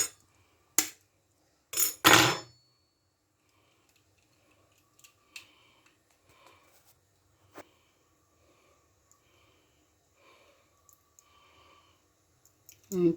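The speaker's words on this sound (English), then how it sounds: "what we need to do now is to break the eggs" Eggs being cracked in a kitchen to separate the whites from the yolks, with a few sharp taps and cracks early on and then quieter scattered clicks and handling noises.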